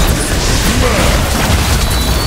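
An enemy turret being destroyed in a ranked League of Legends match, a loud, dense burst of crashing, booming impacts over busy game noise, continuous and close.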